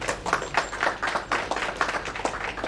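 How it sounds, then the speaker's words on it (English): A seminar audience on real estate, GST and RERA claps to welcome a speaker to the stage, giving a brief, even round of many hands that sounds fairly soft and slightly distant. "please join your hands and welcome sir with the clapping."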